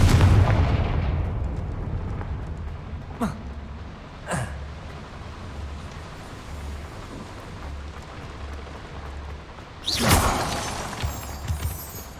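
Confringo blasting spells detonate in the Hogwarts Legacy video game, with sharp, booming explosions at intervals over a low ambient rumble; the last blast is the loudest and rings out briefly.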